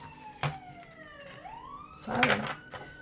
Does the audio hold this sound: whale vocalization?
no